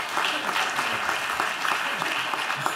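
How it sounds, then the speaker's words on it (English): Audience applause for Amaha Kasa at an economic forum, a dense, steady burst of clapping across a crowd, brief and even, with faint voices mixed in. "give him a round of applause anyway"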